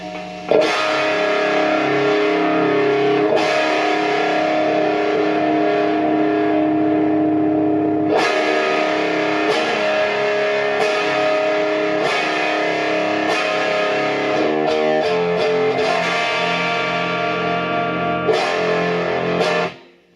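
An Ovation Breadwinner electric guitar plays sustained distorted chords and riffs with a crunchy rock tone, ringing out at length before cutting off at the end.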